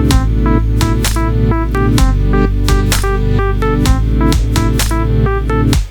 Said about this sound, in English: once I've done layering all the breakdown drums, it should sound like this.